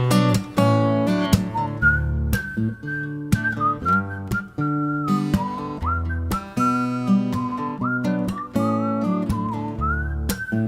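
At a live music stream, people whistle a clear, wavering melody along with a song. The sustained whistled notes glide over steady instrumental accompaniment for the whole stretch.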